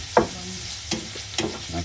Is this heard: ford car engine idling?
no